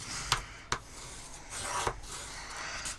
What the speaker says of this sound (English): We're going to bring in our bone folder and give everything a really good burnish.